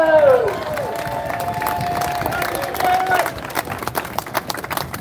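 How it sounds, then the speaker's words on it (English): A protest crowd outdoors claps and cheers, opening with loud shouts and whoops that give way to steady applause, then tapering to scattered claps with voices chatting beneath. "give each other a clap and a round of applause"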